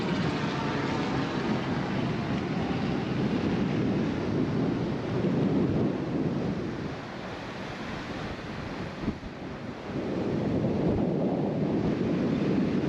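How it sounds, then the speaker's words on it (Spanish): Strong wind at Escambrón beach in San Juan buffets the microphone in a loud, continuous roar, with surf mixed underneath, easing briefly midway before gusting hard again. "Es un viento terrible"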